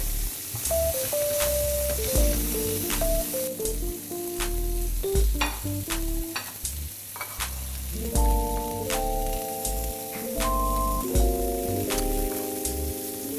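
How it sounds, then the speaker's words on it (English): Shrimp seasoned with salt and pepper crackle and sizzle on a seafood grill, with scattered sharp pops over a continuous hiss, all partly under background music with a melody. "I'm adding this second because shrimp does not take long to cook."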